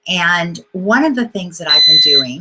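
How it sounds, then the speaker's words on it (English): An internet device gives off a steady high electronic beeping under a person speaking up close. "excuse that beeping, it's my internet."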